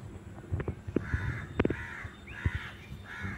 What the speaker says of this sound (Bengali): আর এদিকে পাখি কি সুন্দর ডাকছে